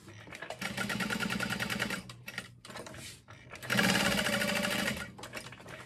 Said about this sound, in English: So I'm gonna continue basting along the top, 1/8 inch.